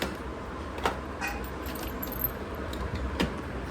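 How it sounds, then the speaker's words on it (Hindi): A bunch of keys jangles as it is handed over, a few light metallic clinks and rattles over faint room noise, close by and alone without speech. "पकड़ो चाबी,"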